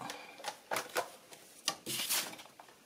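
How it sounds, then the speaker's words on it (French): A series of sharp mechanical clacks and slicing swishes from a paper trimmer, irregular and close, its blade chopping through paper several times. "Je vais prendre mon massicot."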